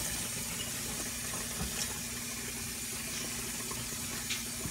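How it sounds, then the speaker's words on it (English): Tap water runs steadily for handwashing in a home kitchen during cooking, a faint, even rush with a low hum underneath and no talking. "we gotta wash your hands"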